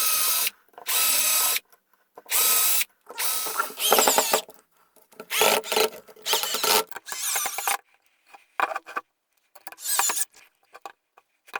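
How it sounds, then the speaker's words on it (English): Power drill pre-drilling holes in a wooden puzzle box for speakers, several close, loud whirring bursts of a second or so each, separated by short pauses, the later ones shorter and more clipped. "I would suggest you to pre-drill the holes."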